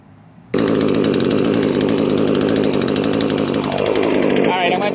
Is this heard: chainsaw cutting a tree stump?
yes